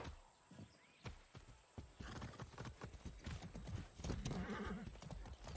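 Horse hooves clip-clop in the video game Far Cry 6, a steady run of sharp, close hoofbeats with a whinny and some background game sound, no talk over it.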